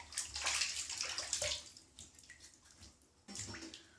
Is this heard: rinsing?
yes